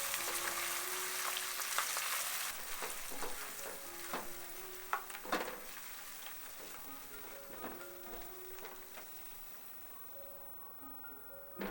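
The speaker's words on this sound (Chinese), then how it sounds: "加入20克的无盐奶油，持续搅动，直到均匀浓稠的质地。" Unsalted butter stirred into hot amber caramel in a pan makes a steady close sizzle and bubbling hiss, with scattered spoon scrapes and clicks against the pan; the frying noise eases slightly toward the end.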